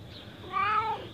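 A cat wearing a collar gives a single clear meow with a rising then falling pitch, close by and fairly quiet, with no talking over it.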